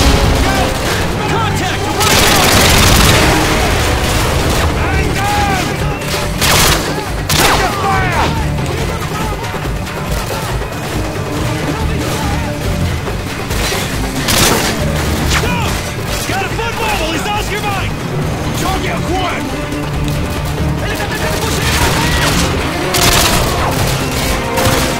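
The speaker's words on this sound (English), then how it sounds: "it's gonna explode!" Dense explosions and rapid gunfire in the Call of Duty: Modern Warfare 2 Brazil finale, loud and continuous with repeated booms and crashing impacts layered over sustained automatic fire.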